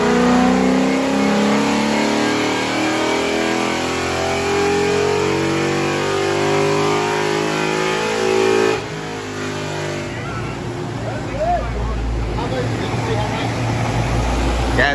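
A Coyote-swapped Ford Thunderbird on a dyno, its engine revving hard in one long loud pull before cutting sharply back to a lower idle-like drone with background noise.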